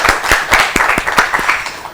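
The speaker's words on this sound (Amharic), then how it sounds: "አጨብጭቡላቸው እስቲ ለሶስቱም" A studio audience claps for three young contestants at an Easter quiz competition on a children's show, a short burst of distinct, closely spaced hand claps, close and fairly loud.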